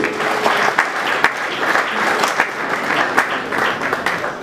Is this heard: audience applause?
yes